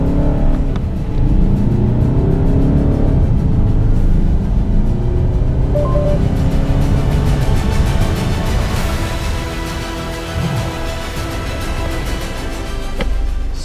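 A Citroen C5 AirCross accelerating hard in normal drive mode with the AC off, a steady loud engine drone and road rumble climbing through gears from the cabin, no voices.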